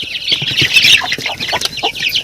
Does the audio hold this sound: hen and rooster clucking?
yes